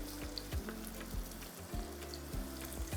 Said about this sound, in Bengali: পেঁয়াজটাকে একটু লাল লাল করে ভেজে নিতে হবে।